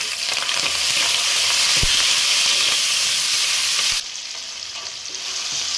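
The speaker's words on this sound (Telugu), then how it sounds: "ఇప్పుడు కరివేపాకు, టమోటా కూడా వేసేసుకుంటున్నాను" Curry leaves and tomato dropped into frying onions and green chillies, a loud dense sizzle and hiss that drops suddenly in level partway through, with faint stirring.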